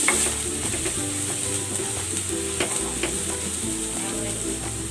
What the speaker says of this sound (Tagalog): Gigisa na ako ng bawang.